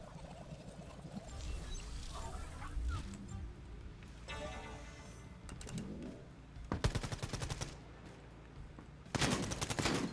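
Submachine gun fire in the fast-paced tactical shooter Quantum League, rapid bursts of shots in two or three clusters, loud and close, with other game sounds between them.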